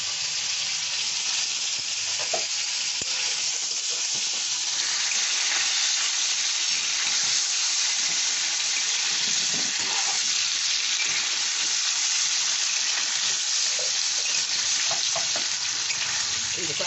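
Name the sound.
paneer frying lightly in oil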